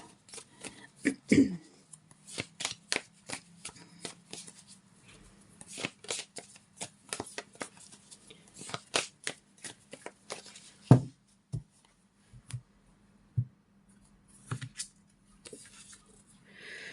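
Tarot cards being shuffled by hand close up, a series of quick riffling flutters and soft taps in an otherwise quiet room.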